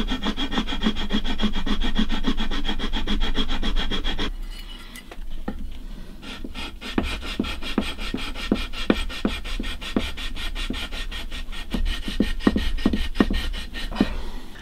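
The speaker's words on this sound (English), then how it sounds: "Next I'll use the file and the sandpaper" Wood on a Gibson banjo fretboard being filed and sanded: steady close rasping strokes for the first few seconds, a brief lull, then a run of sharper, rhythmic scraping strokes that continue to the end.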